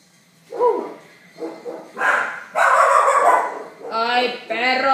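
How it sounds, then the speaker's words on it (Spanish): A pet dog barks and yips repeatedly, up close and loud, in short bursts across the moment, with a person talking over and between the barks during a Mario Kart 8 gaming session. "lo único malo es que mi perro siempre que se viene a ladrar, se viene a ladrar"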